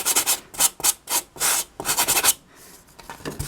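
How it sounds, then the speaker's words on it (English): Sandpaper scuffs a foam surface in a quick run of short rubbing strokes, each a bright, dry rasp, then trails off into a few faint light passes. "you want to kind of scuff up the surface a little bit with some sandpaper"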